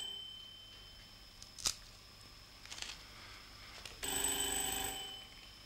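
An old telephone rings in a quiet room: a faint background hum, a few soft clicks and knocks, then a loud, close bell ring with bright sustained tones in the last second and a half.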